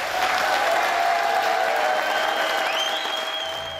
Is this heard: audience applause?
yes